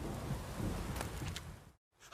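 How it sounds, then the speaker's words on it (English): A thunderstorm in The Witcher 3, a dense rumbling roar of thunder and heavy rain, fairly steady and broadband, that cuts off abruptly near the end and then starts to return. "A storm, damn it."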